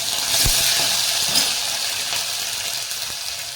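Green chili, curry leaves and ginger-chili paste sizzling in hot oil while tempering kadhi, a steady close crackling hiss with a few light pops and stirring clinks, no voices.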